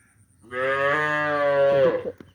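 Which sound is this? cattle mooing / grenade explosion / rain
cattle mooing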